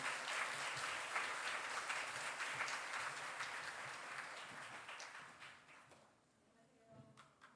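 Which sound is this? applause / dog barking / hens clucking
applause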